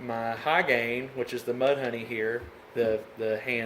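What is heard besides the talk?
No distinct noise like a dog, phone or traffic.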